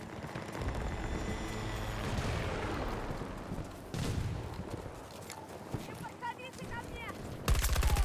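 Battlefield 2042 gunfire sounds in bursts and rattles, with loud rapid shots near the end and scattered explosions and battle noise throughout, partly under voices.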